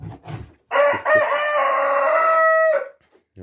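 A rooster lets out one long, loud, drawn-out crow close by, with a few softer hen sounds just before it, among backyard chickens in a winter coop.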